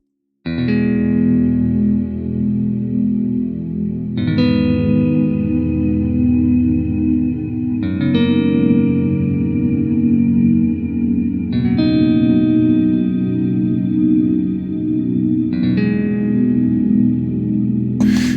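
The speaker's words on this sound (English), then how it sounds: "they go stylistically very hard into the big reverb sound" An electric guitar strikes five sustained chords at steady intervals, each washed in heavy reverb that smears into a long, dense tail.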